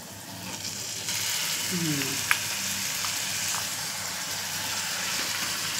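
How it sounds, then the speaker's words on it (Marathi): Mixed vegetables, including peas, potato, capsicum and spinach, drop into hot oil for a dhaba-style gravy. A loud, bursting sizzle starts and then carries on steadily, with a faint voice briefly underneath. "आता आपण मिक्स भाजी टाकतोय याच्यावर"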